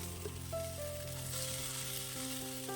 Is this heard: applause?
no